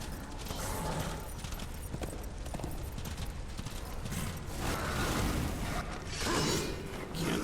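Horse hooves clip-clop through a dungeon in the Darksiders video game, buried in a dense, constant wash of clattering mechanisms and whooshing game noise.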